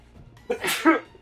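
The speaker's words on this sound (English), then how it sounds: "Oh god, I feel like I need to sneeze." A single loud sneeze up close, a sharp intake of breath followed by an explosive burst and a short voiced tail.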